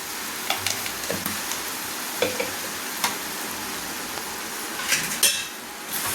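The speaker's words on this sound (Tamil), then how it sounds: "நல்லா இந்த அளவுக்கு நல்லா கிளறி விட்டுக்குங்க" A mutton, cauliflower and green pea gravy fries and is stirred in a pan, a steady close sizzle with scattered clinks and scrapes of a spoon against metal.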